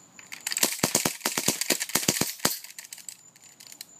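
A 1911 pistol is bump fired, held loosely and rocked back and forth. Roughly ten sharp shots crack off in a fast, slightly uneven burst over about two seconds, then trail into quiet echo.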